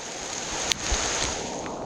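Steady rain pours over a forest trail near the Bukit Perangin waterfall in Changlun, Kedah, a dense, even broadband hiss with a brief louder splash or knock partway through, no talking.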